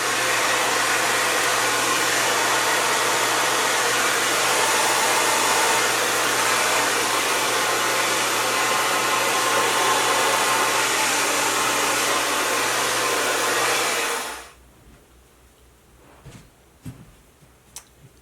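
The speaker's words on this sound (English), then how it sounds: "now I'm going to blow dry it one more time just to finish drying it because it's not dry." A hair dryer blow-drying curly hair roars steadily and loudly at close range for about fourteen seconds, then cuts off, leaving quiet handling noises and a few faint clicks.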